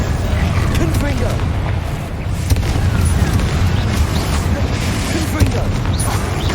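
Confringo spell blasts burst in the Hogwarts Legacy game, with dense, loud booming rumbles that continue steadily throughout.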